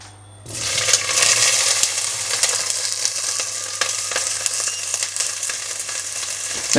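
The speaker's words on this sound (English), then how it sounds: "Now we just want to fry this" Pork loin (magro) frying in a pan for a Murcia-style tapa, giving a steady, close, broadband sizzle with small crackles that begins abruptly after a brief quiet moment and continues evenly, with no talking.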